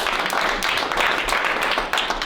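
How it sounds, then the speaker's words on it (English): An audience at a motivational talk applauds itself, a loud, fairly dense burst of clapping and crowd noise that continues steadily with little variation. "Give yourselves a round of applause."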